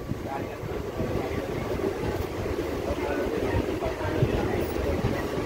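A DEMU passenger train on the Vijayawada to Guntur line rumbles steadily at a station, a close, continuous low roar with faint clatter and some voices underneath.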